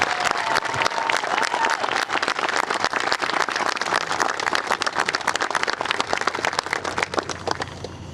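A large gallery crowd applauds at the finish of a U.S. Women's Open playoff at Shoal Creek in wet weather, with crisp, dense clapping that holds loud and steady, then eases slightly toward the end.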